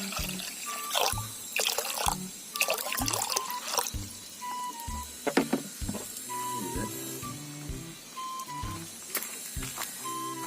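Water for malunggay soup is handled in a kitchen pot, heard as intermittent splashing and trickling pours with clinks of cookware, fairly close, with scattered knocks between.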